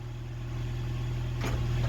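A 1986 Toyota 2WD pickup truck's engine idling, a steady low hum with a soft brief rattle near the end and no talking.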